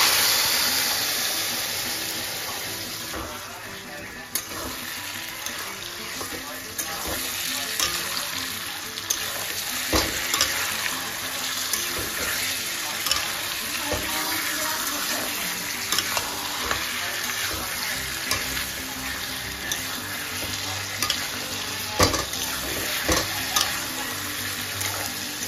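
Marinated mutton with ginger and garlic fries in a pan, giving a continuous loud sizzle with scattered pops and scraping stirs throughout, heard on its own.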